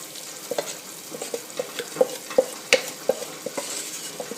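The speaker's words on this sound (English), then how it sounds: "So now you want to stir it all in." Pork juices are stirred into boiling sauerkraut sauce in a pot, giving a steady series of soft scraping and clinking strokes against a low bubbling sizzle, close and without talk.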